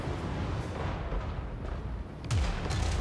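A cannon fires during a Total War: Warhammer 3 battle, a single loud booming blast landing about two-thirds of the way in over a steady rumble of battlefield noise.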